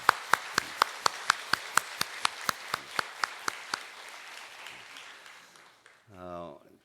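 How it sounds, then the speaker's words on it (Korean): A church congregation claps in a steady unison rhythm to encourage a visiting family: about fifteen sharp, evenly spaced claps, then a brief voice at the end. "박수로 격려하겠습니다"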